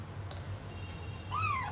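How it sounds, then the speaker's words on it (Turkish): A single short cat meow rises and falls near the end, quiet against a low steady background hum. "Sarışın kedi ya."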